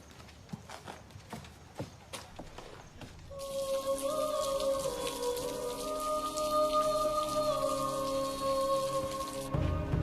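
Rain patters steadily on a surface with scattered close drops, then a sustained musical tone rises over it and holds until near the end.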